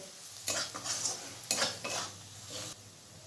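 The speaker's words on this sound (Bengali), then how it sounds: "দেখুন সবজিগুলো আমি একটু হালকা ফ্রাই করে নিলাম।" Vegetables lightly frying and being stirred in a pan while making cheese Maggi masala: a close spatula scraping and clattering in several strokes over a soft sizzle, with no talking.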